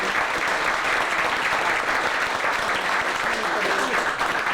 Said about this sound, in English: let's give that brother a round of applause, man